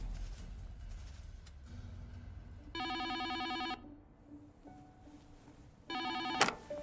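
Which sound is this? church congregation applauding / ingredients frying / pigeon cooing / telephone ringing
telephone ringing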